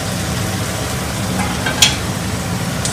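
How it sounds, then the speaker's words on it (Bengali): Onion and capsicum frying in a pan for chilli chicken, a steady close sizzle with stirring throughout and one brief sharp scrape near the end. "পেঁয়াজের সাথে ক্যাপসিকামের সাথে মিশিয়ে নিলাম। একটু ভেজে নিতে হবে"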